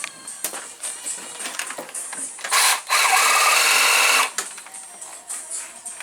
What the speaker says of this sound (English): I'm cutting the motor mount now.